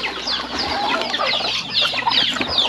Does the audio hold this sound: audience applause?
no